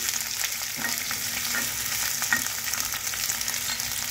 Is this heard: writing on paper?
no